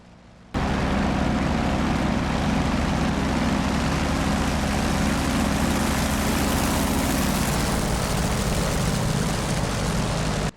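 An F4U Corsair's propeller engine roars loud and steady as the fighter climbs out after takeoff in the DCS World flight simulator, a dense low drone holding for about ten seconds before stopping abruptly.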